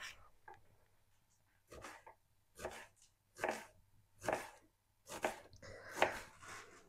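A knife chops food on a cutting board in a home kitchen, about six to seven separate, close strikes spaced roughly a second apart after a quiet opening.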